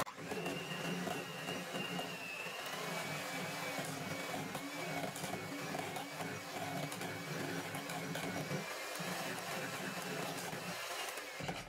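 An electric beater whirs steadily and loudly through the whole stretch, mixing half a cup of sugar into a bowl before whipped cream is folded in for a soft red velvet cake.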